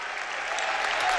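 AEK basketball fans clap throughout the arena, a dense, steady wash of applause from a crowd of a couple thousand, loud and continuous with no break.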